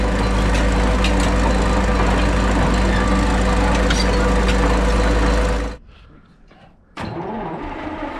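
A 1959 International bulldozer pushes over large trees: a loud, steady diesel engine drone with clanking and cracking runs for nearly six seconds, then drops to near silence before the machine noise returns.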